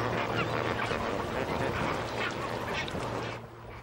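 A large flock of flamingos calls in a dense, continuous honking din during a predator attack, steady and fairly loud throughout, with a low constant hum underneath and the chorus thinning slightly at the very end.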